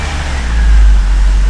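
A Volvo XC90 with a 4T65E automatic transmission runs after a fluid change, giving a brief, loud, steady low engine rumble close by.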